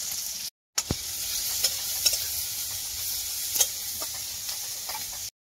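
Egg and onion frying in oil in a pan over a gas stove, a steady close sizzle with light scraping stirs and small ticks throughout, no voices.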